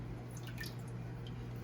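Coconut milk poured from a can into a pot for a dairy-free honey-sweetened condensed milk, heard as a quiet, steady liquid pour with faint drips and squishy splashes over a constant low hum, with no talking.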